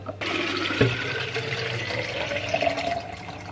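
Water runs steadily from a tap while an item is washed at a sink, a continuous splashing flow with a brief knock partway through, fairly close and alone.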